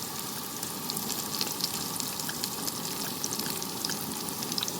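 Garlic sliced into long strips sizzles in hot oil in a pan while cooking a mutton dish, a continuous crackling fry with small pops scattered throughout and no voices over it.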